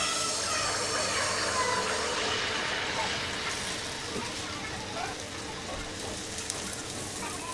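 Tel pitha batter fries in hot oil in a round-bottomed pan, a steady loud sizzle and crackle throughout, close up.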